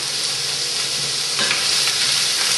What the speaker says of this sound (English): I'm going to add the mirepoix, and that's just going to basically kind of sweat down.